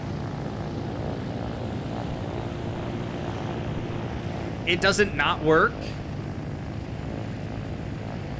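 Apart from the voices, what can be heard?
helicopter built from a private jet in Trailmakers, a video game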